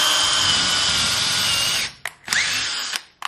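A power drill bores pilot holes in a small garage, whining loudly and steadily up close before stopping, then giving a few short bursts of the motor spinning up and down.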